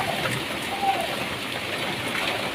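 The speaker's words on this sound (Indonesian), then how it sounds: "Hujan angin, hujan angin." Heavy rain with strong wind and hail, a dense, steady hiss of drops pelting surfaces, fairly close and continuous with no talk over it.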